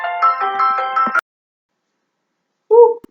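A phone rings loudly with a bright, tonal melodic ring that runs for just over a second, stops, and is followed by a short second burst after a pause of silence.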